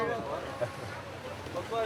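Strong squall gusts batter the microphone in a steady, roaring wind rush with a few sharper surges, heard outdoors in the city during a storm with winds near 110 km/h, while a voice speaks faintly underneath.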